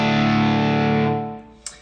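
A PRS SE Custom 24 electric guitar played through a Marshall JTM45 amp model rings out one heavily distorted sustained chord that slowly decays, ending in a brief pick click.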